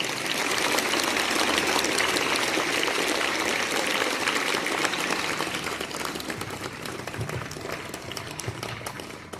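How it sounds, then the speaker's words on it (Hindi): Audience applause for Sir Ejaz at a school Yoga Day event, a dense, loud burst of clapping that continues steadily and then slowly thins and fades toward the end. "आप सभी से आग्रह करता हूं कि एक बार ताली बजा दें सर एजाज के लिए।"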